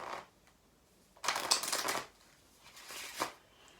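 Deck of playing cards being cut and shuffled, two close, crisp riffling bursts separated by a brief pause, quiet and with no talking.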